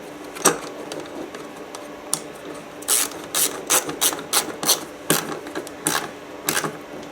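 A ratchet clicks in quick bursts while tightening a 10mm battery screw on a 2015 Honda CB300F motorcycle, crisp close pawl clicks in short runs with pauses between strokes.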